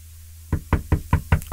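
Five evenly spaced, solid knocks on a door, close and firm, in steady rhythm with no talking over them.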